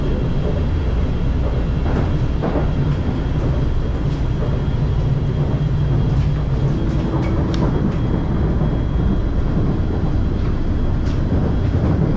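A Kuala Lumpur monorail train runs steadily from Bukit Bintang toward Bandar Tasik Selatan, its loud, continuous rumble and whine heard from inside with faint clicks along the way.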